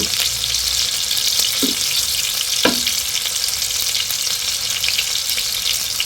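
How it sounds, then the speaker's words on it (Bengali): Chicken fries in a pan with a constant, close hissing sizzle, broken by a couple of brief clinks from a utensil. "এই তো চিকেনটা হচ্ছে"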